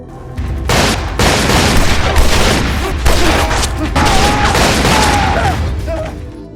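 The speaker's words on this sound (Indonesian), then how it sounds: "pi sayang ia harus berpapasan dengan Paredes lalu mereka saling tembak." Gunfire exchange in an action film, dense bursts of shots and booms in rapid volleys, loud and continuous with scattered impacts.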